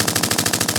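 A rapid string of gunfire sound effects, about a dozen evenly spaced loud bangs in a machine-gun rhythm, plays alone on a podcast.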